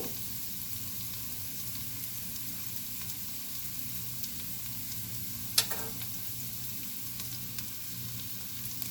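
Rice for Mexican fried rice browns in a frying pan with a steady, even sizzle throughout and one brief clink or stir midway.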